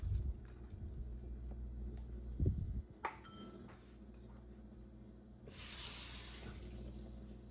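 Water runs from a kitchen tap into a sink to soak strawberries, a soft steady flow with a few clunks and splashes, then a louder rushing stream near the end.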